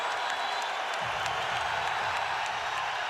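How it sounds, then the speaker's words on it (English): A mostly BYU crowd at a college basketball game against Wisconsin gives a standing ovation, with sustained loud applause and cheering filling the arena throughout. "And they get a standing ovation from this mostly BYU crowd."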